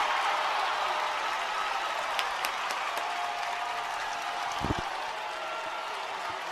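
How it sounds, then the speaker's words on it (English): A baseball crowd at Neuroscience Group Field roars in a steady, dense wash of cheering and applause at a D1 championship game, with a few sharper claps and knocks poking through the continuous noise. "Kaukauna, the crowd erupts here at Neuroscience Group Field"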